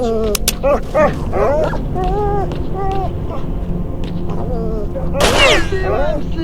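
Gunfire in the video game S.T.A.L.K.E.R.: a few sharp, sudden shots at the start and one more burst near the end, heard under an excited voice talking almost throughout.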